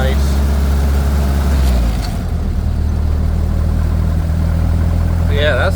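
A 1928 Model A race car with a four-port overhead valve head conversion idles close by with the choke in. It gives a loud, even, low-pitched rumble that steadies after a brief change in tone.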